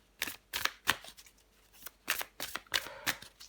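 Tarot cards being handled and shuffled in quick bursts, crisp close riffling and flicking with short pauses between, no speech.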